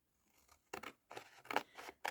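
Scissors snip through paper in four or five short, close crunching cuts separated by brief pauses, with no voices.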